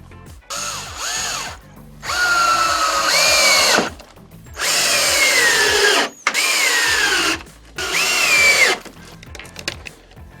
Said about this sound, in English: where we got to drill the holes for the bolts to go in